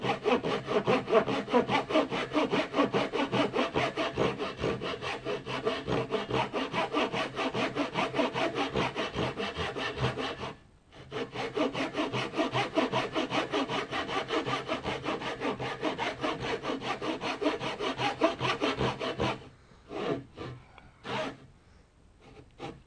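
Steady back-and-forth strokes of a hand saw cutting a walnut tenon for a mortise and tenon joint, close and continuous, pausing once briefly midway and breaking into a few separate strokes near the end.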